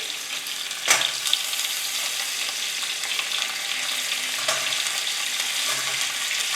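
Carrots, cauliflower and peas sizzle steadily in a hot pan for a vegetable millet pulao, with a sharp clatter of vegetables dropping in near the start and a few softer stirring scrapes later.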